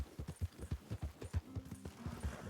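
Horse hooves in Red Dead Redemption 2 clop in a steady quick rhythm, soft and close, with a brief low tonal game sound partway through and no talking.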